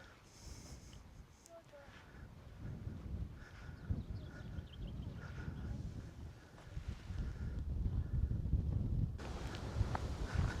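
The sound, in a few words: wind on the Isle of Skye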